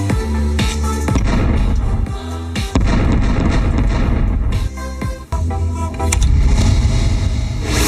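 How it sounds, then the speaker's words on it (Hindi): A miniature cannon fires real shells in a series of loud, sharp blasts that come close together and ring out over a dense, continuous background rumble, with no voices. "ये मिनिएचर तोप असली गोले दागने में सक्षम है"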